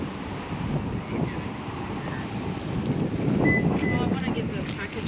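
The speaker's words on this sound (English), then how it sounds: "Very windy." Wind blows outdoors in downtown Edmonds, a constant rumbling rush against the microphone that swells a little midway and stays fairly loud throughout.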